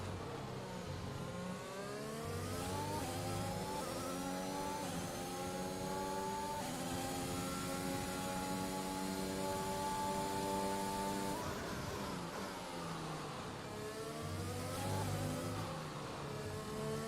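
An F1 race car engine in the F1 2021 game at Emilia Romagna, loud and close, revving high with rising and falling gear-shift sweeps and a brief drop as it slows into a corner before climbing again.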